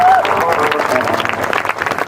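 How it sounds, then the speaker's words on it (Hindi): An audience at a comedy show in Fatehpur applauds to welcome the district magistrate, a brief burst of crowd clapping with a voice over it. "हमारे डीएम मैडम आ गई हैं, तालियों से स्वागत होना चाहिए।"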